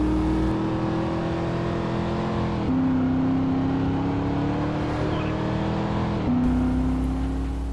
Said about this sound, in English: engine types in games, which sometimes determine engine sounds, like V8s sounding like this